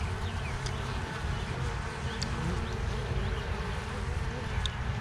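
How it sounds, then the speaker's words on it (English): Honey bees buzz steadily during an Alabama hive inspection shortly after a package install, a dense close swarm hum holding throughout with no talk. "We just have to get the bees off of it before we take it down."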